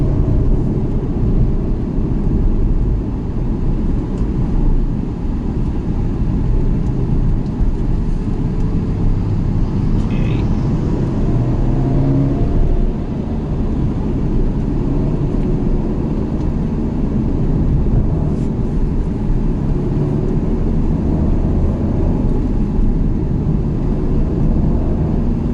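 A 2019 Ferrari GTC4Lusso T with a V8 engine climbs a hill road on the Genting run, giving a loud, steady engine drone and road rumble from inside the cabin with no talk.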